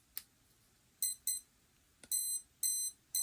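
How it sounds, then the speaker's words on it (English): HobbyWing Mini24 ESC powering up in a RedCat Ascent 18 RC crawler; a short click, then a series of sharp, clear electronic beeps in quick pairs and longer tones, close and distinct against near silence. "So now we're gonna turn on the power on the ESC."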